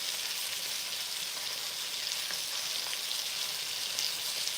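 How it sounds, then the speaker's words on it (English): Meat sears in a hot pan with a steady, bright crackling sizzle, close and continuous, with occasional small pops and faint stirring noises. "try to pull this back out and sear the sides"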